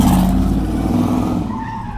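A 2JZ-engined Toyota Hilux bakkie drives under boost, its loud engine roaring and pulling, with a tyre-like whine over a steady low drone that eases slightly toward the end.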